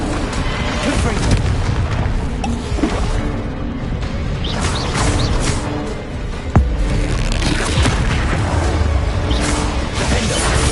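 Booming magical blast from the Confringo spell in Hogwarts Legacy, set within a constant roar of combat noise, crashes and rumbles, with one sharp explosive hit standing out and a voice calling out over the clamor.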